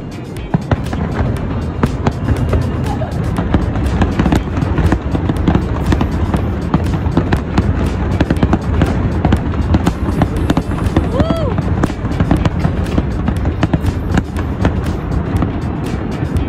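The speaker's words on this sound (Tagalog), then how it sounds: "ito nanonood na lang kami nung fireworks na ginanap dito sa may Abu Dhabi" New Year 2024 fireworks bursting over Abu Dhabi, a steady stream of distant pops and crackles mixed with crowd noise and people talking nearby throughout.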